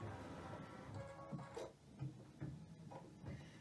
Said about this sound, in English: put the foot down, get a green light, and push go